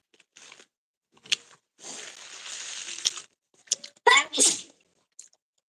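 A single sharp sneeze bursts out near the end, after a few scattered rustles and a stretch of soft shuffling noise.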